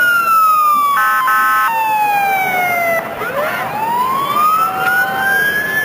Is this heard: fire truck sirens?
yes